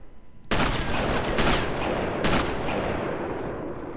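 Rapid gunfire in the Sniper Elite video game, loud and sustained bursts of shots that begin abruptly and continue for several seconds, with a few sharper blasts standing out.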